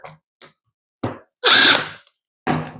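A power drill whirs in short close bursts while boring shallow pilot holes, about an eighth of an inch deep, for tiny screws in garage cabinets, with one longer loud run between brief starts.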